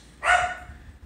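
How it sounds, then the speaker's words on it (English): A female dog gives one sharp, loud bark at a passing UPS truck, close by, followed by quiet room tone. "she's barking at a UPS truck"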